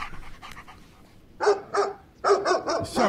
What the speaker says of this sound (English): it's a damned ugly dog